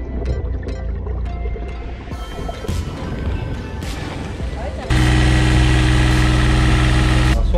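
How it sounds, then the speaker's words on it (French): A boat engine runs steadily with a dull, low drone, growing louder and denser partway through, with voices heard faintly over it. "on n'a plus l'habitude d'entendre ce moteur, on a l'impression qu'il fait comme un bruit sourd"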